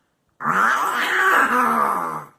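Cartoon duck voice growling loudly in imitation of a wolf, a single sustained rough, groaning snarl that rises and dips slightly over about two seconds after a brief silence.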